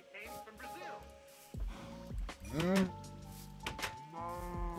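A baby cow lows in a farming video game, with game sounds and music around it; speech also runs through the clip.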